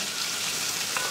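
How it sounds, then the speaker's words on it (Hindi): Chopped onions with shahjeera frying in oil for a restaurant-style mixed vegetable dish, giving a steady, close hiss of sizzling throughout with no talking. "अब हम डाल रहे हैं 100 ग्राम चॉप प्याज"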